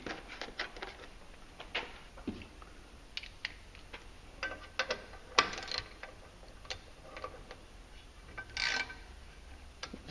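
Bolts on a 2018 Polaris Ranger XP 1000 clutch being snugged by hand during an EPI Performance clutch kit install: faint, scattered metallic ticks and clicks, irregular and close, with no talking.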